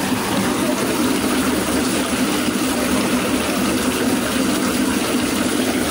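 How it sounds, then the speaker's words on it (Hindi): Chilled drinking water runs steadily from a tap or fountain in Dubrovnik's Old Town, a continuous close, dense gushing rush that stays even and fairly loud throughout with no talking. "भाई इतना चिल्ड पानी आ रहा है"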